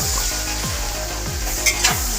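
Melted butter and leeks sizzle in a pan while being stirred, giving a steady crackling fry with soft scraping strokes roughly every half second and a couple of light utensil clinks near the end, close and with no voices.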